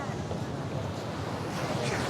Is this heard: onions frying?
no